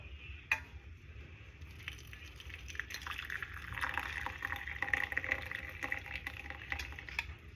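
Tea trickles and splashes steadily into a cup, a quiet pouring sound that swells in the middle and carries on to the end.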